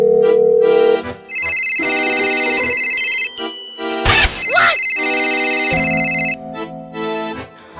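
A telephone rings in repeated electronic bursts with short pauses between, and a sharp clattering hit lands partway through.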